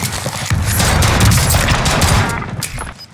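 Rapid bursts of gunfire in the Call of Duty Warzone video game on Rebirth Island, loud and close, crackling in a dense volley for about two and a half seconds before trailing off.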